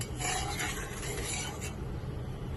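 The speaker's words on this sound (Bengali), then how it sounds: "আবার একটু নাড়িয়ে দেব।" Spoon scraping and stirring Kashmiri dum aloo in a pot, a steady close rasping rub with faint sizzling underneath, no talking.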